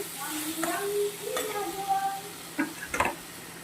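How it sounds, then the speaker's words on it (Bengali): Bottle gourd stirred into fish-head masala in a pan, a steady close sizzle broken by spatula scrapes and a couple of light knocks against the pan; no talking. "কেটে রাখা লাউটা ভালো করে নেড়ে চেড়ে এটা ঢেকে দেব"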